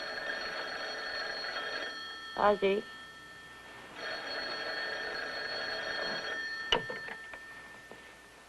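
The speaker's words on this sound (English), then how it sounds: "answer the phone" An old household telephone bell rings in two long bursts separated by a pause, fairly faint and steady, with a brief voice calling out between the rings.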